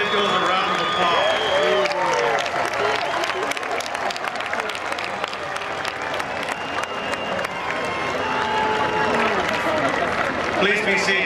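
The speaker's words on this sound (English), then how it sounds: "Please give those individuals a round of applause." A graduation ceremony audience claps in a dense, sustained wave of applause, with crowd murmur and a few voices mixed in, steady and close for the whole stretch.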